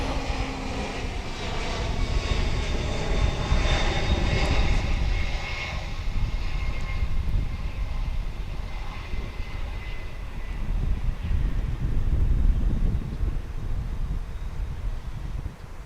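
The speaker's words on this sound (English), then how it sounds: "that, ladies and gentlemen, was coming in from Fargo. It's a UPS flight" A UPS cargo plane arriving at Dallas Fort Worth International Airport from Fargo passes loudly with a rising, then fading jet whine over a heavy low engine rumble that continues with wind buffeting the microphone.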